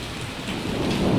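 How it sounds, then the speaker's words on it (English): Hailstorm in Pathankot with rain and hail pouring down outdoors near a garden, a steady dense hiss of falling water and pellets that swells slightly louder toward the end, with no voices. "Hailstorm in Pathankot. So many hails."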